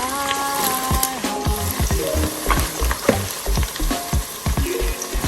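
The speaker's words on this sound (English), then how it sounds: "And now to this, I'm going to add the chopped onion." Chopped onion with cumin frying in a pan for a vegetable dum biryani gives a dense, loud sizzle with repeated scraping and stirring knocks, and a low tonal hum runs underneath.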